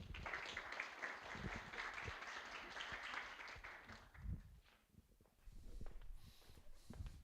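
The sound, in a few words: audience applause for the speaker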